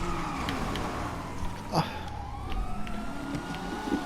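Police siren wailing in the video game GTA 5 Online as police chase the player, a rising and falling electronic tone over a steady vehicle and engine rumble, moderately loud and continuous.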